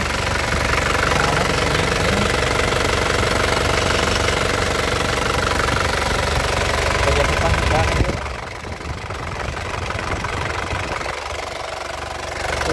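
The turbo diesel engine of a 2016 Isuzu Panther LS runs steadily at idle, a loud, close rumble with a knocking clatter. Its tone shifts partway through as the listening position changes, and a person speaks over it.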